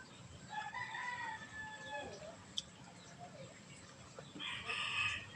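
A rooster crows a few times at a distance in an outdoor setting, with a second crow near the end, faint over low background noise and without talk.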